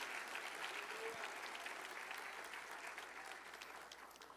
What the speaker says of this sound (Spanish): Dale un aplauso al Cristo de la gloria